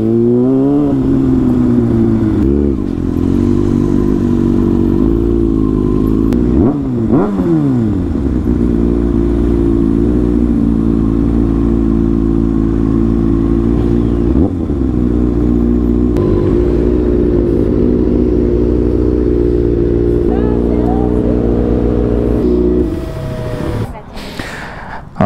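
Many motorcycles, including superbikes, gathered at Big Bay in Bengaluru, with engines idling and revving loudly close by in a steady, continuous drone that falls away near the end.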